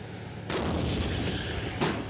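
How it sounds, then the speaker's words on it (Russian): A tank cannon fires on a tank biathlon shooting range at the Alabino proving ground, a sudden loud blast followed by a long rumbling roll and a second sharp report near the end, with no talk over it. "Еще один выстрел. Еще одна цель."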